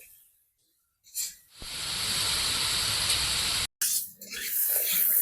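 Carrots and onions hitting hot oil in a pan, a sudden loud hiss that swells into a steady, close sizzle, cut off briefly before resuming just as strongly.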